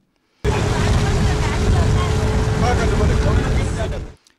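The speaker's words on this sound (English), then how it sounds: "the captain swiftly kicks the engine into motion" An outboard boat engine on the River Gambia roars into life and runs loud and steady, a broad noisy drone with a faint tonal hum, ending abruptly after about four seconds.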